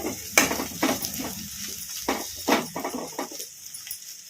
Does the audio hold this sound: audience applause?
no